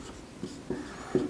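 Chalk or marker writing on a board during a Hindi maths lesson on profit and loss, heard as a few short, soft scratching strokes close by with no talk over them.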